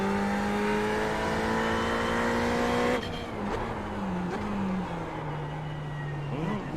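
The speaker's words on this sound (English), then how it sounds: "I'm having trouble hearing anything over the engine" A car engine running loudly throughout a drive, holding a steady high tone that drops as the gears shift and then climbs again, with tire noise underneath and no break in the sound.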